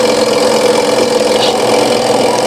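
A repaired clothes dryer motor that had a ground fault now runs again, giving a loud, steady mechanical hum with no pause or speech.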